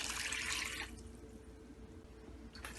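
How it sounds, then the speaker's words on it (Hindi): Water is poured into a cooking pot holding lentils, potatoes, onions and spices for chicken shami kabab, a close, soft splashing rush lasting about a second before fading into quiet. "और पानी डालेंगे।"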